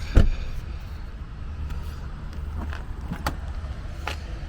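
Tailgate of a 2021 Jaguar F-Pace P250S opening, a low motor hum with a thump at the start and a few faint clicks, close and steady, without speech.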